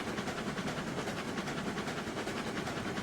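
A wood train rolling along in the video game Railroads Online, a steady, even rumble with a faint rhythmic clatter that holds at a constant level throughout.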